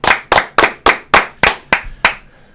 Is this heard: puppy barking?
no